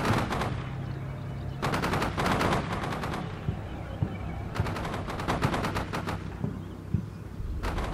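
Bursts of machine gun fire ring out in the Combat Mission: Shock Force 2 video game. Rapid rattling volleys come in several clusters over a continuous battle rumble, loud and near.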